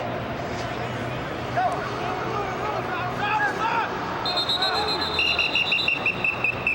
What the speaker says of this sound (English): No flag, just a whistle.